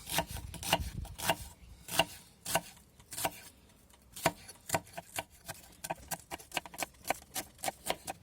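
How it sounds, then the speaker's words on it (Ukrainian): A knife chops red and white onions into half-rings on a board for Uzbek dimlyama, giving a steady run of sharp, close taps, some faster and some spaced, with no one talking. "Так, ріжемо цибульку на димляма напівкільцями"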